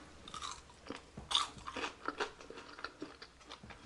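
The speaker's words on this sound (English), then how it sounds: "Did you hear the crunching?" Crispy air-fried French fries being chewed close to the microphone, with a series of sharp irregular crunches and bites over several seconds in an otherwise quiet room.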